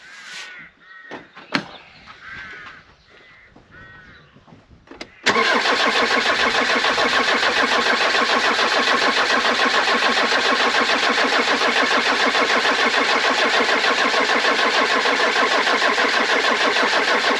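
A Land Rover Discovery diesel engine on a 6x6 build cranks without firing after a fuel injection pump job, a loud, continuous, even-rhythmed churning of the starter that follows a few quiet knocks and handling sounds.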